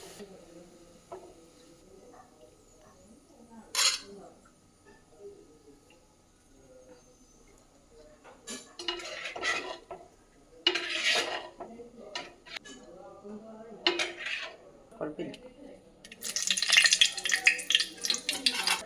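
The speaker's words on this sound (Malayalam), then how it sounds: "ആദ്യം നമ്മുടെ സവോള ഏതാണ്ട് വറുത്ത് വന്നിട്ടുണ്ട് നമുക്ക് കോരിയെടുക്കാം" Sliced onions being scooped out of hot frying oil for a Kerala kurukku kaalan, with intermittent scraping and stirring knocks and bursts of sizzle that swell into a bright, loud crackle near the end.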